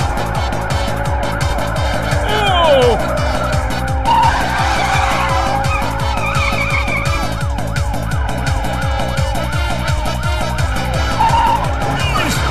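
A cartoon jeep races through a Himalayan car rally with a constant engine drone, repeated tire screeches and skids, and a siren wailing in the mix, all loud and busy.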